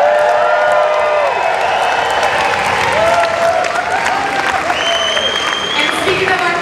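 A crowd at a political campaign rally for the NDP applauds and cheers steadily, with dense clapping, whoops and cheers washing together loudly throughout.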